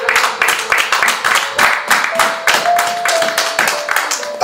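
A church congregation applauding during a Sunday service, a dense, loud, fairly rhythmic clapping that carries on throughout.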